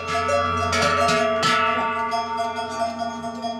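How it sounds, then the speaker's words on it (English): Tupin cowbells on cattle clang close by with bright metallic strikes, a few sharp hits at first, then lingering ringing tones fading out. "Cattle herders around here are very attached to the sound of the tupin."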